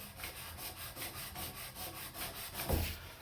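Rhythmic rubbing as copper pipe is cleaned all the way around during a commercial vanity plumbing install, quick regular back-and-forth scrubbing strokes, close but quiet, with a soft bump near the end.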